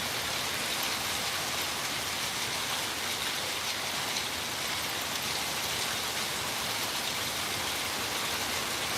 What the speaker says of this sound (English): It is pouring. It is hailing.